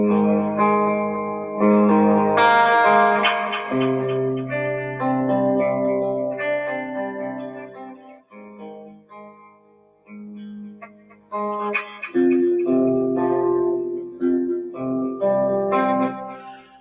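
A fast electric guitar chord riff with chorus and distortion effects plays steadily, briefly thinning out midway before picking back up, with no talking.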